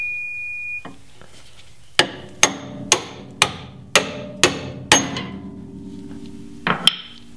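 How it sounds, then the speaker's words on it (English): A hammer strikes a steel pickle fork to split a track bar end from its mount, giving seven loud, ringing metallic blows at an even pace, then two quicker taps at the end. "the way I like to take these ends off is just with a pickle fork"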